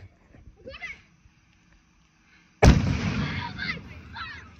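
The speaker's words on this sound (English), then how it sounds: "He picks an explosive, puts fire on it, and places it under the air filter." A lit explosive going off beneath a car air filter, a sudden loud close blast followed by a rumbling, decaying roar, with brief talk before it.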